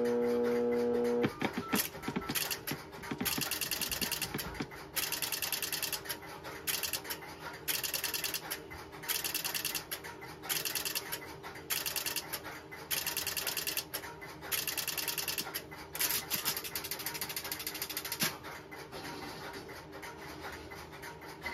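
Strowger step-by-step telephone switches clatter while placing a long distance call through outgoing trunks, a dense run of rapid mechanical clicks and ratcheting bursts in quick rhythmic groups, close and loud, with no talking.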